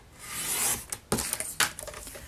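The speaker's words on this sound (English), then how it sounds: "place it into my Stampin' Trimmer and cut it at 6 inches" A Stampin' Trimmer slices through cardstock, giving a short scraping slide of the blade followed by a few small clicks and taps as the paper is handled, quiet and close.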